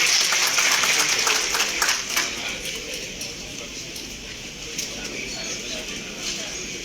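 An audience at a live program claps in welcome: a dense patter of applause that starts loud and gradually thins and fades over several seconds, with no talking.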